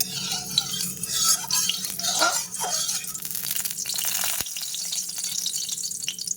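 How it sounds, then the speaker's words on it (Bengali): Mustard oil crackles and sizzles softly as it heats in a wok, with occasional scrapes and clinks of a spatula against the metal. "কড়াইতে আমি আবার অল্প কিছুটা সরষের তেল দিয়ে দিয়েছি"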